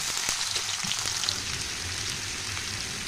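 Boiled potatoes and onion fry in oil in a kadai on a gas stove, giving a dense, steady sizzle with light crackling throughout, close and without speech.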